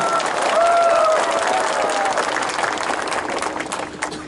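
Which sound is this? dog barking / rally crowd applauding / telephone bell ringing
rally crowd applauding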